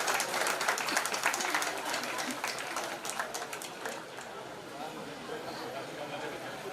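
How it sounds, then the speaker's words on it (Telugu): Audience applause at a Telugu formal event, a crowd clapping steadily and loudly throughout, fading slightly toward the end with some murmuring underneath. "అందరూ క్లాప్స్"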